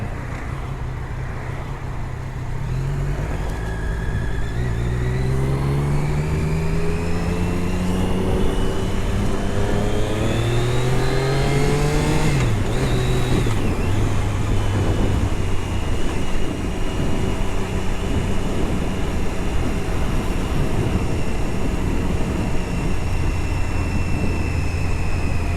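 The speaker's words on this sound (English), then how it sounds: "Lots of traffic, but that's all right." Continuous traffic noise on a Toronto street heard from a moving motorcycle, a broad steady roar with engine tones rising and falling as the bike accelerates and shifts, mixed with wind rush and no talking.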